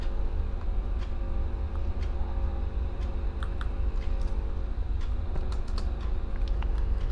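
Computer keyboard typing while coding a Django Python web app, scattered quick key clicks and short runs of keystrokes, close but soft over a steady low room hum, no talking.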